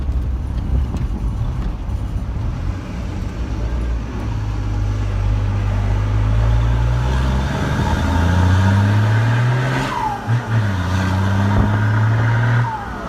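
A Chevrolet Silverado six-cylinder engine roars loudly nearby, a deep rumbling idle that rises in revs and falls back again, with short throttle blips near the end.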